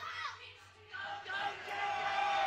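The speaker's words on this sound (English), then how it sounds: "The crowd letting Kenzie hear it." A wrestling crowd at a women's wrestling show roars in disapproval during a choke hold. The noise stays loud and sustained, with shouts and whoops building toward the end.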